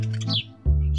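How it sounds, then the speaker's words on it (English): Birds chirp and tweet in short bright calls, a couple of clear close chirps with a brief pause between, in an animated bedtime-story scene. "the birds were chirping"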